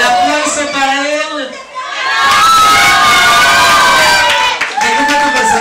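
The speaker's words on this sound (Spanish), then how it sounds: "El aplauso para el zombie." Costume-party crowd at a Halloween DJ event cheering and shouting for a guest dressed as a zombie, loud and close, swelling into a roaring burst of whoops and applause after an announcer's voice.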